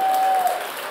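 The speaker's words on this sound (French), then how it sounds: "Main d'applaudissements." Audience applause at the Uashteshiu 2024 evening, a steady wash of clapping with a faint tone running through the first half.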